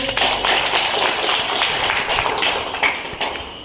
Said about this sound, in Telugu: ఒకసారి గట్టిగా క్లాప్స్ వాళ్ళకి